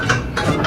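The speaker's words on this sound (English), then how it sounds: "Why are you screwing it in?" A ratchet clicks in short bursts as a bolt is driven in during a Subaru WRX crash bar install, three quick close metallic runs with no one speaking over them.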